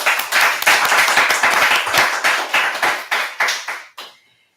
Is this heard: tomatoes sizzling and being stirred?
no